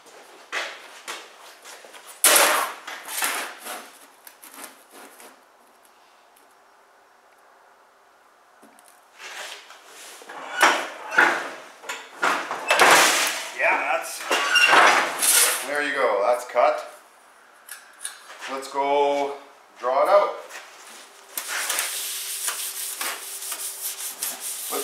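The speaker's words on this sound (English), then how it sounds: "Let's go to the shear, cut it up, and then I can start marking it." Galvanized or aluminum sheet metal being cut on a metal shear for a homemade dustpan, giving a series of loud, harsh scraping and clanking bursts with quieter handling in between.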